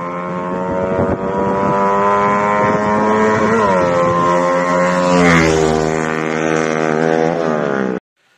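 A small Lifan-engined motorcycle revs and drones loudly, pitch rising and falling as it passes close by, then cuts off abruptly.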